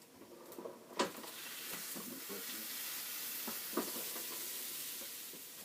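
A Cuban sandwich fries in a pan with a steady, close sizzle and hiss throughout, broken by a few sharp clicks and scrapes of a utensil near the start and middle.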